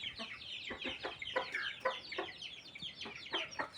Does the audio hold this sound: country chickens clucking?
yes